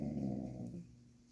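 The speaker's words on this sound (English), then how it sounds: "That's not a growl, that is a whine." A puppy whines with a low, growl-like vocal sound, close and fairly loud for most of a second, then trailing off into quiet.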